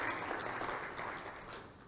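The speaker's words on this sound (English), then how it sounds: "Please give Chris a round of applause" Steady applause from a meeting audience honoring an organizer at an inauguration and planning meeting, a dense wash of clapping that fades slightly over two seconds.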